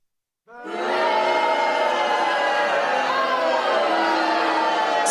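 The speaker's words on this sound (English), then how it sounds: "They're booing." A large crowd breaks out suddenly into loud, sustained booing that swells and holds steady, dense and close.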